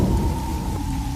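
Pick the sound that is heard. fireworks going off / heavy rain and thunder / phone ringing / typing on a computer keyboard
heavy rain and thunder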